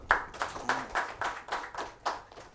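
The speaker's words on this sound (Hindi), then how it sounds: "हम तालियों से आपका स्वागत करते हैं" Rhythmic clapping at a Rajasthan Parishad event, a group of hands beating together in an even, steady pulse of roughly three to four claps per second, close and clear with no talk over it.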